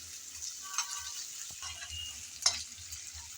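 Ginger garlic paste fries quietly in a pan for prawn cooking, a faint, even sizzle with a couple of light stirring scrapes.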